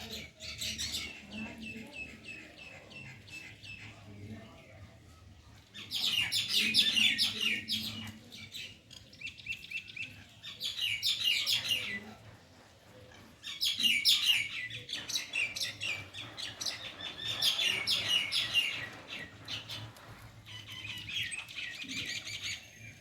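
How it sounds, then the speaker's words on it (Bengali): Common myna birds chatter nearby in an afternoon backyard, with bursts of harsh, busy chirps and squawks that come and go every few seconds over a quiet background. "কি ঝামেলা করছে শালিক পাখিগুলো।"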